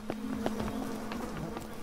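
A steady electronic buzz from the video game We Happy Few, a glitchy hum running continuously with faint clicks and rustles over it throughout.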